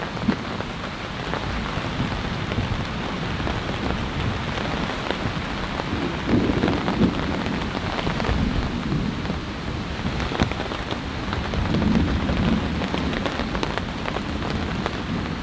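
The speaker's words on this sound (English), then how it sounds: "It has been raining now for 1 hour straight." Heavy storm rain pours steadily onto a large pop-up tent at a campsite, a dense, continuous hiss with rumbling thunder swelling in the background, no voices.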